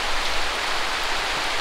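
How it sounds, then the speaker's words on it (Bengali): Rain falls steadily as a dense, even hiss, close and continuous, with no voices. "বৃষ্টি তো চলে আসলো, তো এদিকে জল পড়তেছে"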